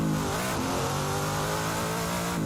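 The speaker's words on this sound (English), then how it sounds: "what I'm trying to fix is the over revs when I speed shift" A car engine in the racing game Assetto Corsa revs hard and over-revs during a speed shift, a loud, close, continuous mechanical whine that climbs in pitch, dips briefly at the shift, then holds high.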